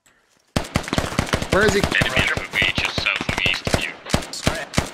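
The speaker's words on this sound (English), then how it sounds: "we have a heavy MG up on the roof if you want to use it" A heavy machine gun in the SQUAD military shooter hammers out a loud, close, rapid stream of shots after a short silence, with a voice speaking over the firing.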